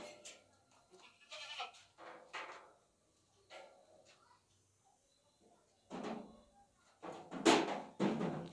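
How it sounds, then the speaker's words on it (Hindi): Goats bleat in scattered bursts at a livestock sale, with short loud cries near the end and quieter calls between, amid light thumps and background voices. "ताकतवर बकरा, खूबसूरत बकरा"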